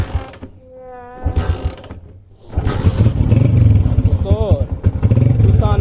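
A motorcycle is kick-started with a clatter of mechanical strokes, then its engine settles into a loud, low, rumbling idle while people talk over it.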